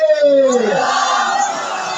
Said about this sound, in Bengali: আপনারা খুব মরা হয়ে গেছেন, তাকবীর দেন দেখি